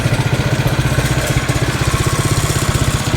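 Snow blower engine running with its auger turning, a loud, close, rapid steady chugging throb with no talking.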